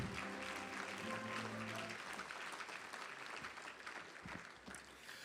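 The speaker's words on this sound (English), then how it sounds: "How about another big round of applause for these great men?" Loud, sustained applause from a crowd at an awards ceremony fills the room, steady clapping throughout, with a voice briefly audible at the start.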